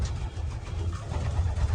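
Pigeons cooing nearby, low soft rolling coos in a short burst over faint background hum, with no talk.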